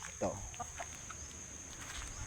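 Soft, scattered clucks from chickens close by, brief and irregular, over a faint steady background hiss.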